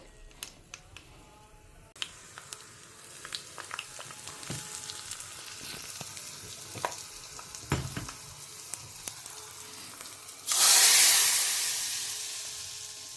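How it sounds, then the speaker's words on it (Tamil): Vegetables for an Udupi-style capsicum dish tipped into hot oil in a home kitchen: scattered pops and crackles, then a loud sudden sizzle that bursts up and slowly fades, with no voices. "நான் இப்போ இது எல்லாத்தையும் இதுக்குள்ளே போட்டுக்கிறேன், பொரியட்டும்"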